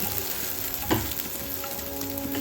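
Cashews fry in hot fat in a pan, a loud, steady, close sizzle with a brief stirring clack partway through and no voices.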